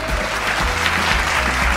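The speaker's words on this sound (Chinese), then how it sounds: "给我用最热烈的掌声" Audience applause welcoming the chairman of the Overseas Community Affairs Council at a 2022 youth summit, steady and dense for under two seconds with a low hum beneath.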